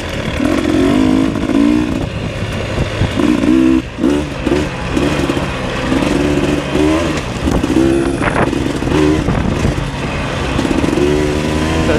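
A dirt bike rides a trail loop with its engine revving hard and shifting gears, its loud buzzing pitch rising and falling close by.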